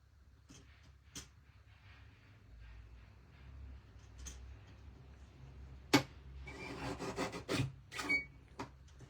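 A small guillotine paper cutter slices card, giving a few sharp blade clicks and scraping slides, with a cluster of louder rasps and snaps near the end in a quiet room.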